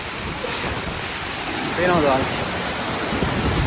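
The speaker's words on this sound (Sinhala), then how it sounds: "ගෝමුරු ඇල්ල." Bomburu Ella waterfall swollen after heavy rain, a steady broadband roar of falling water filling the scene, with a voice briefly speaking over it midway.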